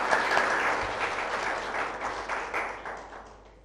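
A crowd at a gathering claps heartily, a thick wash of applause with some distinct individual claps that gradually fades away.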